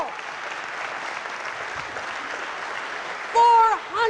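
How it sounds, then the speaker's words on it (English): Broad, sustained applause from a large audience at a public talk at the Clinton School, steady and moderate in level, with a voice cutting in loudly near the end. "Give him a round of applause"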